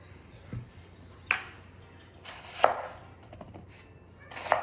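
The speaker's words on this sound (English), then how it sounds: "I've also got onions here, which I'm just gonna cut up really quick" A knife chops onions into quarters on a cutting board for a spatchcock turkey dinner, giving four sharp, separate cuts spaced about a second apart over a quiet kitchen background with no voices.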